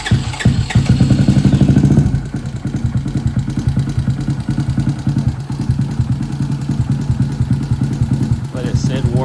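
A Honda DAX motorcycle with a 149cc big bore kit idles while warming up, a steady, rapid chugging pulse; a louder burst at the start settles into an even putter.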